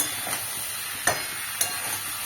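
Soybean chunks and cauliflower for a curry stir-fry in a pan. A constant hissing sizzle is broken by two or three sharp scrape or stir clicks, close and alone.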